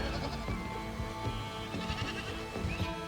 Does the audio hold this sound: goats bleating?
yes